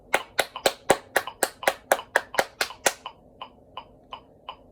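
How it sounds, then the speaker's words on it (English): Sharp hand claps ring out about a dozen times in a brisk, even rhythm, then continue as softer, quieter claps with short pauses between them. "I'm just gonna clap it a few more times so I can kind of get the rhythm more in my head"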